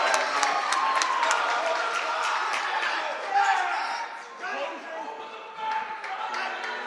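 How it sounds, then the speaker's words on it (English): Crowd at a high school boys basketball game cheering and clapping in a busy gym, a steady roar with whoops, under a commentator's voice. "And this crowd is pumped up."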